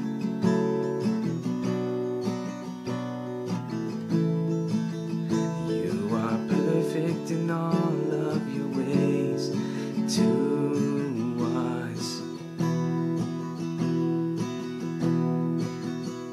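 Acoustic guitar strumming the chord progression of the bridge of a song, a steady rhythmic pattern of chords continuing throughout, moderately quiet and heard alone without talking.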